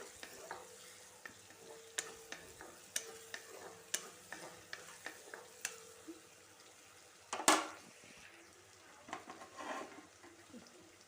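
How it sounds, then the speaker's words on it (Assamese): Mustard seeds and onions stirred in a hot pan, a soft continuous sizzle broken by light spoon scrapes and taps, with one louder clatter midway, all fairly quiet and close. "এয়া সৰিয়হখিনি অলপ লৰাই দিছোঁ পিঁয়াজখিনিৰ লগত"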